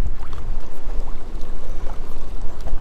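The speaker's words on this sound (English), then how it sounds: "sorry about the wind if you're hearing that wind blow," Steady low wind rumble buffets the microphone outdoors on a lake while bass fishing, a continuous gusty roar with faint water lapping underneath; close and fairly loud, no voices.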